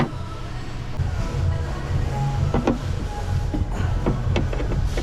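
A clamp-on tool cuts through and pushes out a rivet on a salvaged Porsche Taycan, making a mechanical whirring grind with a few sharp clicks and squeaks over a low, continuous rumble nearby.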